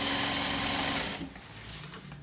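A sewing machine runs steadily as it stitches double piping, a continuous close hum for about a second before it slows and fades to quieter handling noise.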